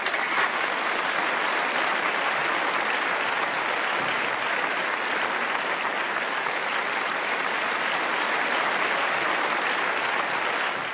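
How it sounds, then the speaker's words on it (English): A large audience at a Chinese New Year celebration applauds in sustained, dense clapping that holds steady and fairly loud for about eleven seconds, with no voices over it. "perhaps you will all join me in sending our thanks to him in the traditional way of applause"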